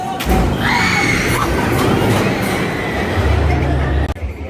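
The Mr. Freeze roller coaster train at Six Flags St Louis roars along its track with a loud, continuous rumble and rattle, plus thumps and wheel squeal near the end.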